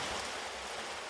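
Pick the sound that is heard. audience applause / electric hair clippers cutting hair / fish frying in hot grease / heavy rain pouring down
heavy rain pouring down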